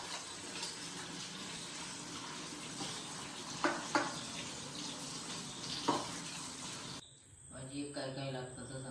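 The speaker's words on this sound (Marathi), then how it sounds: "भाजी धुवून घेऊया आधी." Leafy vegetables are washed in water in a home kitchen, with soft continuous splashing and a few sharper knocks, ending in a quieter stretch where faint other sounds come through.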